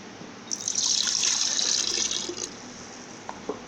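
Water pours steadily from a mug into a container for about two seconds with a bright splashing rush, then stops, leaving a few small clinks; preparing homemade lassi.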